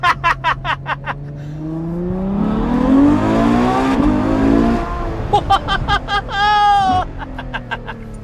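A Ferrari F12 Berlinetta V12 screams loudly up through the revs in a sustained acceleration, with sharp rising harmonics and quick pops between shifts, heard close and dominating the scene.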